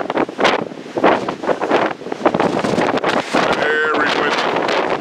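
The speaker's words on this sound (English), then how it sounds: "Very windy." Strong wind buffets the microphone in gusty, roaring bursts, with a wash of surf-like noise underneath and a voice speaking briefly.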